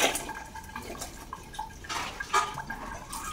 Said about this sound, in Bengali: এখন আমি মাছটাকে একটু ধুয়ে নেব।